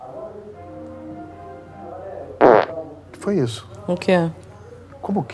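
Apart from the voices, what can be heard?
fart in a Porta dos Fundos comedy sketch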